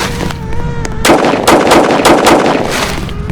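Gunshots in a Roblox hood roleplay game, a fast string of loud bursts in quick succession starting abruptly and continuing throughout, close and punchy over game ambience.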